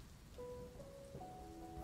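Soft, steady rain falls faintly under quiet tonal music in a Japanese drama scene, with no voices.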